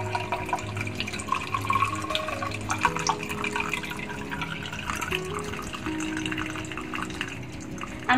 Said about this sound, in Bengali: আমি এখন ছাঁকনি দিয়ে ছেঁকে নিব